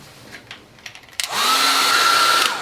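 Soft handling taps and clicks give way to a hair dryer switching on and blowing steadily and loudly up close as it dries watercolour paint on a landscape painting.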